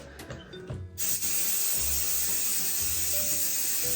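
A few soft clicks and rustles, then a sudden loud continuous hiss of makeup setting spray that carries on steadily to the end.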